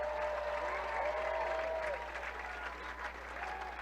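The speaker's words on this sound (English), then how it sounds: "Give him a big round of applause." A crowd claps for a climber just awarded the world title in the 60-foot traditional speed climb, with steady, moderately distant applause.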